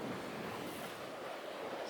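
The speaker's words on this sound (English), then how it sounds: "The winds and waves have been pretty good, but the waves are tall and a little rough." Ocean waves and wind rush steadily around a sailing boat in rough seas with tall waves, a loud continuous wash of surf and wind buffeting the microphone, with no talking.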